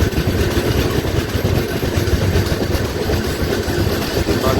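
The Jhelum Express running on the line, a steady close rumble of rolling wagons with faint rhythmic rail clatter, heard from inside the train with no talking.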